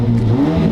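A Mazda 3 with a six-speed manual revs hard from the passenger seat, a loud steady engine drone with rising harmonics across a brief burst.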